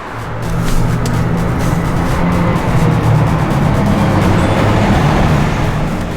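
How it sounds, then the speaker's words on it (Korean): A generator engine, freshly reassembled top and bottom, runs with a loud, steady mechanical roar and rumble throughout, close by with no pauses. "위에 조립하고 밑에 조립하고 시동 한번 걸어보도록 하겠습니다."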